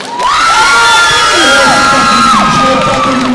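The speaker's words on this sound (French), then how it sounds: "Et ça s'applaudit" A loud crowd at a cosplay contest cheers, whoops and shouts continuously, with high excited voices rising over a dense wall of noise.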